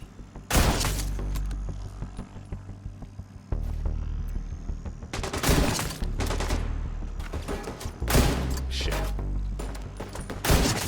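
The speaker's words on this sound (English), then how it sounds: "as I shoot this guy in the head with my thick, meaty marksman rifle" Marksman rifle gunfire in The Division 2 video game: several loud, heavy reports in bursts with shattering impacts, a sustained firefight ambience between shots.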